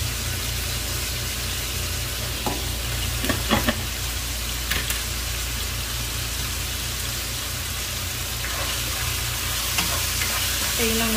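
Chicken frying in a pan, browning in a dense, steady crackling sizzle that holds evenly throughout, with a few faint clinks and stirring noises along the way.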